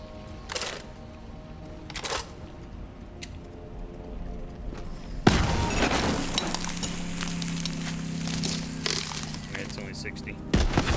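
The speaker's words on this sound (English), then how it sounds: "Oh, it's a delayed explosion." A sticky grenade in Borderlands 3 detonates after a delay: a sudden loud blast near the middle, followed by a sustained rumbling roar and crackle of in-game combat, with faint clicks beforehand and someone talking throughout.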